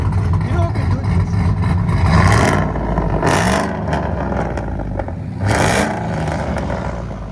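A supercharged Chevy Silverado with a 5.3L engine, headers and a Flowmaster exhaust revs hard in loud repeated bursts over a steady idle rumble, with voices heard in the background.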